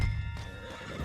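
Horse neighing in the video game Red Dead Redemption 2, a short whinny heard close and fairly loud over a low background rumble, with faint hoof clip-clop.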